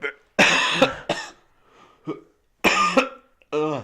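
Several harsh, loud coughs burst out in quick succession with short pauses between, followed by a brief voiced sound at the end.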